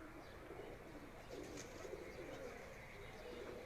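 Tournament pigeons at a loft near Kharian give faint, soft cooing that is partly buried in a steady wash of outdoor background noise.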